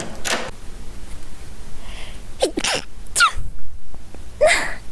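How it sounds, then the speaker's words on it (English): A single sharp human sneeze bursts out near the start, followed by short breathy sounds and small noises from the same close voice. "I had to sneeze."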